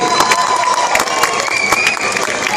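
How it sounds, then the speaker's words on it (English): Loud audience cheering and applause at a staged show, with crowd shouts and whoops over dense clapping that fills the whole stretch without pause. "One big round of applause for yourselves, everybody."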